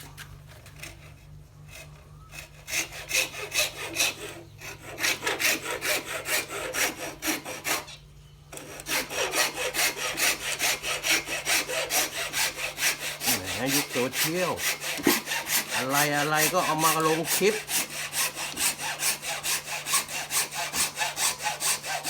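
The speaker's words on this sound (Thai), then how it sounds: "วิธีเลื่อย ใช้เลื่อยตัดเหล็ก" Rapid back-and-forth rasping of a hacksaw cutting through ruak bamboo, steady and close, with a brief pause and a voice speaking partway through.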